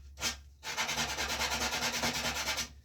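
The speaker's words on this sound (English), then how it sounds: "this is a well-used piece of 80 grit" Rawhide bow tips rubbed with worn 80 grit sandpaper give a brief stroke, a short pause, then a steady run of quick rhythmic scratchy strokes, close and fairly soft.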